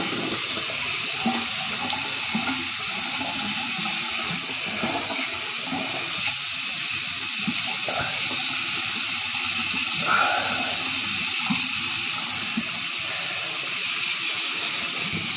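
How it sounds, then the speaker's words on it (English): A bathroom tap runs steadily as someone rinses off after a shave, a constant broad hiss of flowing water with small splashes breaking it up, close and unbroken, with no voices. "let me rinse off here. Excuse the sound of the water."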